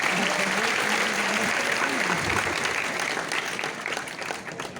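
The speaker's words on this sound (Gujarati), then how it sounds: "આવનારા દરેક મહેમાનોને આપણે જોરદાર તાળીઓથી વધાવીએ." Dense audience applause welcoming guests at a seminar, loud steady clapping that tapers off slightly toward the end, with some voices mixed in.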